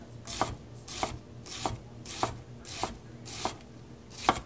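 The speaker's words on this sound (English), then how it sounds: "You're going to slice right through the middle. Do not cut yourself. You're going to do nice even strokes." A knife slices an onion on a cutting board in about eight even, steady strokes, each a crisp close thud, with no talk.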